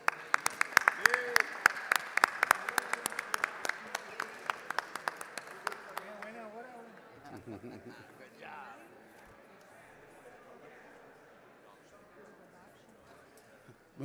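Applause fills a state House chamber at the Capitol, a burst of sharp clapping from many hands that thins out over several seconds and fades beneath murmured talk and room noise.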